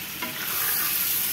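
Eggs cracked into a hot pan burst into a loud, close, hissing sizzle that rises sharply and holds steady to the end, with no talk.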